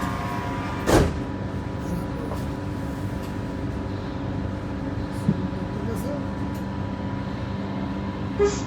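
A Doha Metro Red Line train hums steadily along the track toward Hamad International Airport, a continuous interior rumble with a few faint clicks and soft bumps and no voices.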